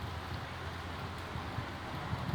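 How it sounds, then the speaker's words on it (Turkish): Steady rain during a summer storm in Germany, an even hiss of drops falling on surfaces with no gaps and no voices. "yağmur atmaya başladı"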